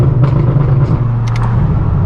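A straight-piped BMW M4 F82 sends a loud, steady exhaust drone and deep rumble through the cabin while driving, with no talk.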